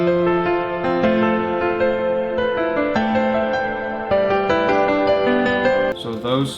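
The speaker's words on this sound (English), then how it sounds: "this is in Keyscape. This one I actually went and made a MIDI, so it kind of sounded like a real piano" A sampled piano from the Keyscape library plays a MIDI-programmed part with steady sustained chords and moving bass notes, full and close throughout, shifting to a brighter, denser texture near the end.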